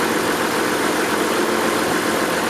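The warmed-up engine of a 1992 Acura Legend, which has a misfire, idles close by with a steady, dense and fairly loud drone that holds constant throughout, with no talking.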